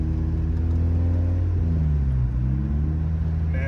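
A Mazda Miata with a failed clutch runs continuously nearby, its engine note rumbling steadily and then dipping and rising in pitch as the revs are matched for a shift, with no one speaking.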